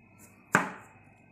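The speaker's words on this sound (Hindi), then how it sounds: "अब इसके आलू को पतले स्लाइस में काट लेते हैं।" A knife makes one crisp, close cut through a peeled, halved potato being sliced thin, a single sharp stroke in otherwise quiet surroundings.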